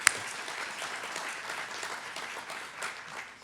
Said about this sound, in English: So really a special round of applause for her to putting this together.